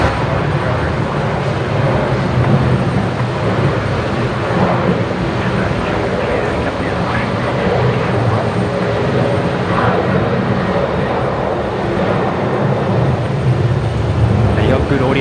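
An aircraft engine roars steadily at Brisbane Airport during Cyclone Alfred, a loud, continuous rumble with wind noise and voices talking over it.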